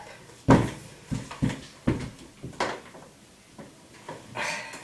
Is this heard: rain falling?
no